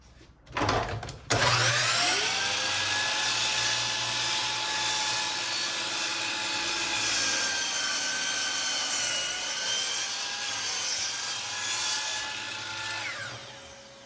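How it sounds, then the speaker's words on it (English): A power saw makes a straight cut through wood for a bookshelf build, a loud steady whining drone after a brief start-up, running for about eleven seconds before winding down near the end. "we're going to now go ahead and make a straight cut here"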